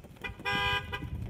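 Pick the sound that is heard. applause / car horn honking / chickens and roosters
car horn honking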